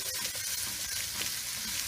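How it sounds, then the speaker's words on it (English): Onions and garlic sauteing in a pan for a breakfast dish, a steady dense sizzle and crackle, close and continuous throughout. "So you add the garlic in, and the onions, saute it."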